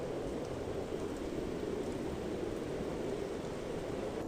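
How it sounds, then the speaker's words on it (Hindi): Heavy rain pours steadily as a dense, even hiss with no breaks, fairly soft and without any voices. "इतनी तेज बारिश"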